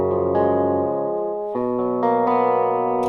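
Arpeggiated guitar chords from a VST plugin, notes rolling upward one after another in a few clear chord changes, sustained and ringing with slight reverb, played alone without talk.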